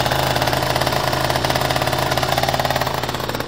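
An engine fitted with a big bore kit and an Airsol T6 exhaust idles up close, loud and rough, with a fast, steady pulsing throb and mechanical rattle throughout.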